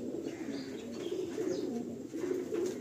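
A pair of quality pigeons coos steadily at a breeder's loft in Behala, producing continuous low throaty murmurs that rise and fall close by, with faint bird chirps above and no speech.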